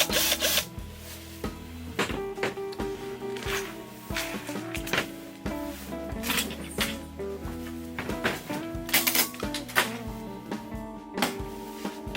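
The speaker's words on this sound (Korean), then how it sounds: "드릴에다가 홀커터를 연결을 해서 구멍을 뚫어 보겠습니다." A power drill fitted with a hole cutter bores holes through a farm electrical distribution box, running loud and close with repeated bursts and clattering tool handling, without talk.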